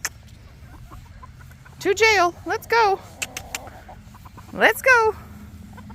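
Chickens and roosters cluck and squawk in short bursts on a small farm, a few loud calls standing out close by while a person speaks briefly and urges the birds along.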